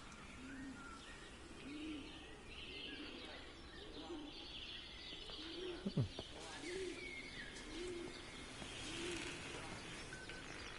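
Birds in the Everybody's Gone to the Rapture game world, mostly a repeated soft dove-like cooing with a few faint chirps over a quiet outdoor ambience, and a brief louder call near the middle.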